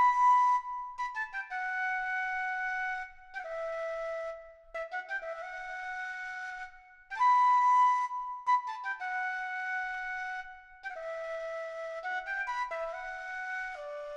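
A synthesized Jubal flute preset in FL Studio plays a bouncy melody pattern of clear, breathy notes with short gaps, some sliding into one another, repeating in phrases and heard alone without talk.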